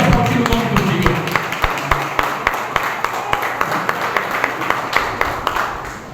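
Church congregation at an evangelical anniversary service clapping along in a regular, rhythmic beat, crisp claps repeating steadily over a murmur of voices and background sound.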